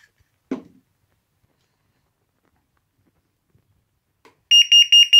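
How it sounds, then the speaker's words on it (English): A carbon monoxide alarm sounds its test beep: after near silence with a faint knock, four loud, evenly spaced electronic beeps ring out close by at the end. "push the test button and hold. You'll get the loud beep and the red alarm light"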